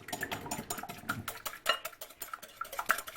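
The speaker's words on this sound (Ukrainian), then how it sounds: "дрібку солі, щоб краще збити, і пробиваємо добре наше яєчко." A whisk beating an egg with a pinch of salt clinks rapidly against a bowl in a steady, fast rhythm of metallic taps, close and continuous.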